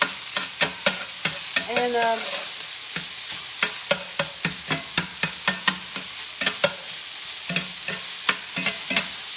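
Crumbled sausage sizzles and browns in a pan for gravy, a steady frying hiss broken by regular sharp clicks of a utensil stirring and scraping; a brief voice speaks once.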